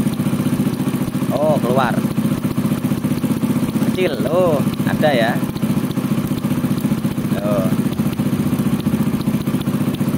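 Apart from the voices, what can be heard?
Honda Astrea Grand motorcycle engine running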